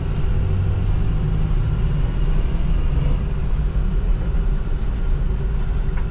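A Ford E150 van with a 4.2L engine, previously running rough, accelerating on the road, a continuous loud low drone of engine and road noise from inside the cabin.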